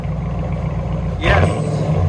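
A Dodge Durango RT with an aftermarket muffler idles with a low rumble, then the engine revs sharply and loudly up close before settling back to a heavy drone.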